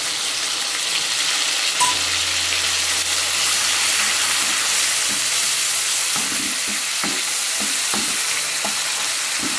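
A ginger and coriander paste fries with cabbage in a pan, giving a steady loud sizzle throughout with occasional stirring scrapes and clicks in the second half.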